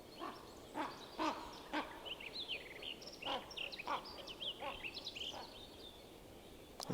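A raven cawing repeatedly outdoors, a string of harsh calls at an irregular pace, fairly faint against a quiet background.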